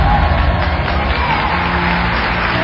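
A television studio audience at a celebrity diving show bursts into an ovation, a dense roar of cheering and whooping filling the space, loud and sustained with voices calling out within the crowd.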